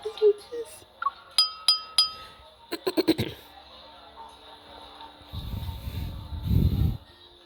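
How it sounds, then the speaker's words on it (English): Wine glasses clinking at a banquet in the hold of a ship in the video game Love and Deepspace: a quick series of crisp, bright clinks, then a voice speaking over soft background ambience. "the crisp sound of clinking glasses captures everyone's attention"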